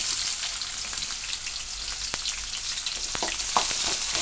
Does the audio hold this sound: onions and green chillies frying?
yes